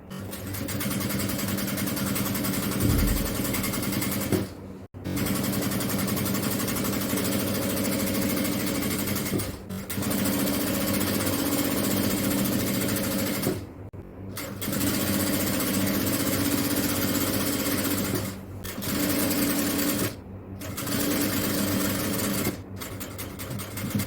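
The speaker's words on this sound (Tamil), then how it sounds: "அதுக்கப்புறமா இது மாதிரி 2ஆ மடித்து தைக்கலாம்" Sewing machine stitching a folded hem on an XL-size jalabiya, a steady mechanical whir running continuously with several brief pauses between bursts of stitching, close and fairly loud with no talking.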